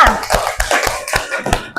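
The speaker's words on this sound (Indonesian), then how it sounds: "Oke, kayak gitu tepuk tangan untuk kita semua." Classroom students clapping together, a loose burst of sharp hand claps in quick irregular rhythm, close and fairly loud with no talk over it.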